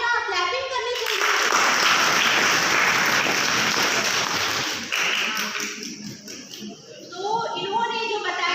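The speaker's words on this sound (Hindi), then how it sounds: "जब भी कोई आंसर अच्छा देता है तो आपको तालियां क्लैपिंग करनी चाहिए" A room full of students clap and cheer together at a board-exam counselling session, loud dense applause lasting several seconds before thinning out, with voices of a speaker and children around it.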